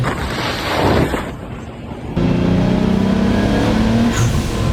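A big-turbo Nissan 300ZX engine roars and builds under hard acceleration in third gear, cutting in abruptly to a loud, strained drone with wind rushing past.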